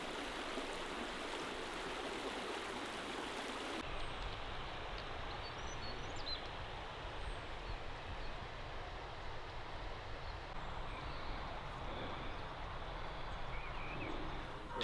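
The Swincombe river on Dartmoor flows in a steady, broadband wash of rushing water, continuous and moderately near, with faint birdsong above it and no talking.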